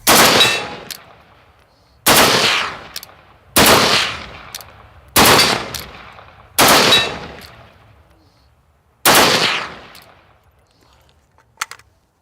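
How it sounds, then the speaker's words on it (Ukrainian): An AK-12 rifle cracks out in six loud, echoing bursts, each a rapid double shot, spaced a second or two apart, followed by faint metallic clicks. "у тебе одне нажаття це е, подвійний постріл"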